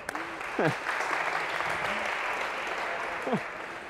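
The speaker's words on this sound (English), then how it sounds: "This is really like the lamest sort of thing to be applauding over." A lecture hall audience at a computer science class applauds, a soft, diffuse patter of clapping under brief voices and laughter, fairly distant and quiet.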